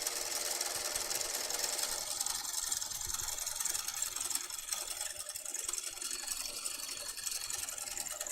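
A sewing machine top stitches all the way around a sleeve cuff on a Leschi Top, just past the seam allowance, giving a steady, continuous mechanical whir throughout.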